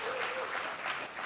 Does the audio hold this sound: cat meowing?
no